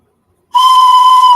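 A toy or novelty train whistle blown indoors gives one loud, steady, shrill tone that starts abruptly after a short silence and holds for nearly a second, close and piercing with a breathy edge.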